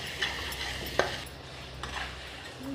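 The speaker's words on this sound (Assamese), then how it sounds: "মাংসটো বনাৰ আগতে মছলাটো অকণ ভাজি লৈছোঁ" Masala spices frying in a pan before meat is added, with a spoon scraping and clinking against the pan in several distinct strokes over a soft sizzle, close and without speech.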